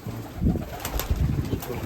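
Domestic pigeons, including collared and black white-winged breeds, coo softly inside an old rebuilt dovecote. The low, throaty calls repeat and overlap continuously against a faint indoor hum.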